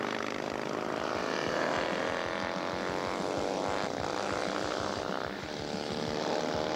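Vintage racing motorcycles, including a 1950 Norton and a BMW, roar past in a Class C event at the 1997 AHRMA National race at Steamboat, as a loud, sustained engine howl with shifting pitch.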